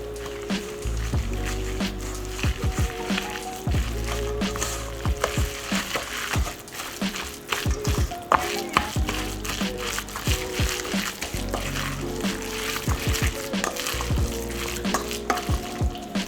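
Zucchini fritter batter with flour is stirred in a bowl, giving wet, squishy, gloopy mixing sounds with repeated knocks of the utensil, steady and close for a long stretch without talking.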